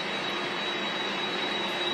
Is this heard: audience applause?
no